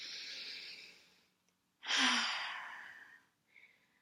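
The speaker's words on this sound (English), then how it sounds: "take a nice deep breath in" A single deep breath drawn in slowly and close by, a long airy rush that swells and fades, with a softer breath just before it and a brief one after.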